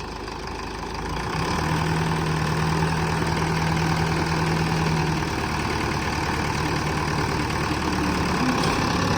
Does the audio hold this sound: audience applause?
no